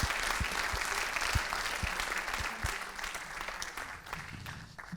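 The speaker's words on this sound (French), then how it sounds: "Vous pouvez les applaudir, s'il vous plaît." Audience applause fills a conference hall, steady and dense for several seconds before thinning slightly toward the end.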